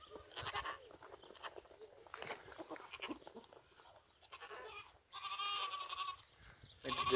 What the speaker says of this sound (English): Dang, we got a goat battle over here.